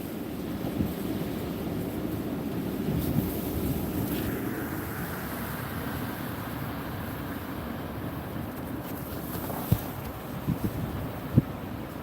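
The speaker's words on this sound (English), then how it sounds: "There's another good gust there." Gusty wind during a Pacific Northwest snowstorm makes a continuous rushing rumble that stays fairly even, with a few sharp knocks near the end.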